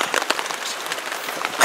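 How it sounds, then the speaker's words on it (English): Rain patters onto a tarp shelter at a camp, with scattered drops and a few sharper taps over a soft, continuous spatter. "It's still raining."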